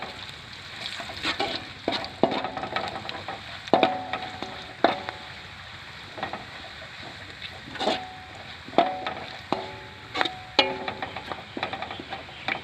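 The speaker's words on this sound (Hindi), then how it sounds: "थोड़ा सा इसे भून लेंगे ताकि इसका फ्लेवर" Whole spices (cinnamon, cloves, black pepper and cumin) roast in hot oil with golden onions for a village-style peas pulao, a steady close sizzle broken by frequent sharp clacks of a spoon stirring against the pot.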